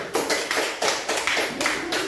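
A short burst of rhythmic clapping from a small group in a classroom, steady and fairly close, with no talking over it.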